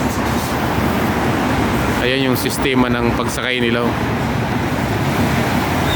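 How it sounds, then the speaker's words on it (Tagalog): City bus pulling up at an expressway bus stop in Hong Kong, heard as a steady roadway rumble and engine drone throughout, with someone speaking briefly over it in the middle. "Ito dumating na nga yung bus number 112."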